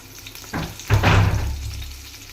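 Washed dried prawns dropped into hot oil for a prawn curry, a sudden sizzling burst that swells loud and then settles into a steady frying hiss, close and without talk.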